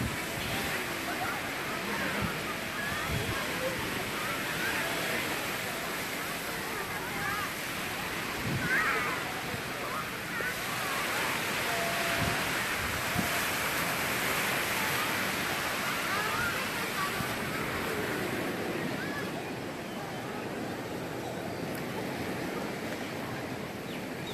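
Sea waves wash continuously onto a beach, a steady broadband roar with gentle swells and no distinct breaks, while people's voices come and go faintly under the surf.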